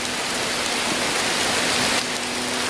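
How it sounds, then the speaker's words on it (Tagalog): Heavy storm rain pours down in a dense, steady roar close by, continuous and loud with no voices, like a downpour drumming on surfaces during a typhoon. "parang bumabagyo na talaga dito. Ang lakas na ng ulan."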